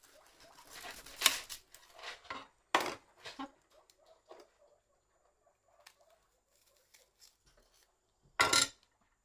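A knife chopping an onion on a board gives a few sharp, separate knocks spaced irregularly between quieter stretches, close and fairly crisp.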